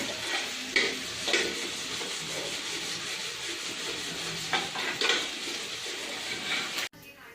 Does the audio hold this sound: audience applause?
no